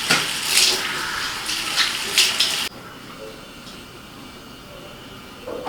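Running tap water rushes and splashes steadily during face washing, then cuts off abruptly partway through, leaving quiet room tone.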